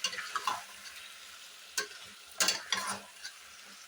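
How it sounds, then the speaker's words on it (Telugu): Yogurt and rice frying in a pan for veg dum biryani: a soft steady sizzle with a few louder stirring scrapes and clanks near the end, close up and without talk. "పెరుగు బాగా ఫ్రై అయ్యాక రైస్ని వేయాలి."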